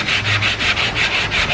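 Sandpaper on a sanding block scrapes across car body filler in steady back-and-forth strokes, about seven close, even passes with a dry, hissing rasp and no voices.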